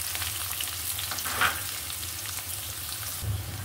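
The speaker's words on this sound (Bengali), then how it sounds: "এটা দিয়ে আমি একটু ভেজে নেব। বেশ কিছু পেঁয়াজ কুচি।" Chopped onions with a few black peppercorns fry in a pan, a steady close sizzle of moderate loudness with a brief brighter spatter in the middle and faint stirring.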